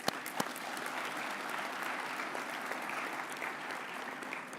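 Steady applause from the audience at a university vice-chancellor's inauguration ceremony, even and somewhat distant, with a couple of sharper claps standing out near the start.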